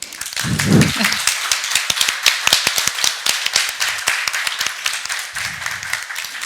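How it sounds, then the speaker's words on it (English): A conference audience applauds at the close of a regulatory panel discussion, with sharp distinct claps that thin into a sparse, uneven patter and a few murmuring voices underneath. "I would like to just give you a big round of applause"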